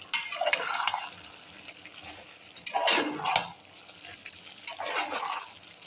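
Ingredients for pulao being stirred and mixed in a pot, giving three separate bursts of scraping and clinking at moderate loudness with quieter gaps between.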